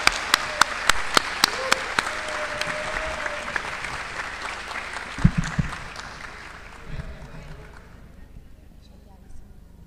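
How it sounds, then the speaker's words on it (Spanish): Audience applause at an academic evening event, a burst of many hands clapping close and steady, thinning out after several seconds as the hall settles, with a few murmurs from the crowd. "Damos un aplauso a Cintia."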